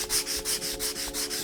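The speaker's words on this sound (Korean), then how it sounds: "150 사포로 여기 이렇게 가루가 이렇게 나오는 거 보이시죠? 이렇게 나무가 갈리면서 평이 잡힙니다" A wooden cutting board is hand-sanded with 150-grit sandpaper in quick, steady back-and-forth strokes, about eight rhythmic scratchy passes close to the microphone with no talking.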